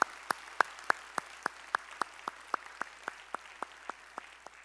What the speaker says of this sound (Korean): 우리의 찬양을 받으실 주님께 영광의 박수 올리겠습니다